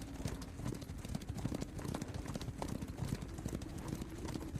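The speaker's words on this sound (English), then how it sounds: "you can certainly hear the sounds of many horses coming fast behind you" Many hooves of galloping horses pound in a dense, continuous clatter, a fast rapid rhythm of overlapping hoofbeats that stays fairly quiet and distant throughout.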